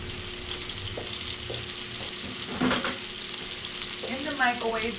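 Food sizzles steadily in a hot pan, with occasional stirring and clinking utensil sounds over the continuous frying hiss.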